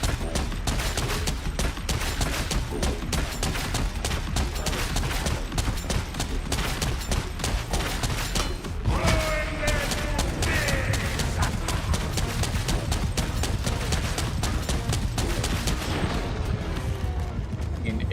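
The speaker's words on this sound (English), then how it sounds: "And we will start firing." A Warhammer 40,000 Havoc weapon blazes away in a video game, a dense, continuous stream of loud rapid-fire shots running the whole length with scattered impact crashes and no let-up.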